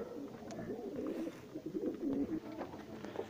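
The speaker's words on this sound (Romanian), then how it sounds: "Ăștia sunt porumbeii lui fratele meu, înfoiații ăștia." Ornamental frilled pigeons coo softly and repeatedly at close range, their low throaty warbles rising and falling over faint background noise.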